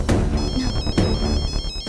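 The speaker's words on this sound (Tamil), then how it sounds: "ஃபோன் வருது." A phone ringtone chimes in a repeating pattern of bright tones during a Tamil TV serial scene. It rings clearly and alone, with no voices over it.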